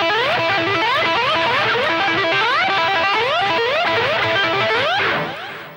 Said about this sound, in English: which uses what we call a trill, with the left hand in combination with a slide